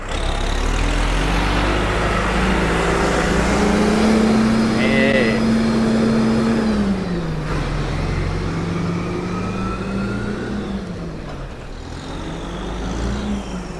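New Holland TS6020 tractor with its engine running loudly and steadily nearby, a continuous low diesel drone with a rising and falling pitch as it revs, plus a faint whine, carrying on for the whole stretch.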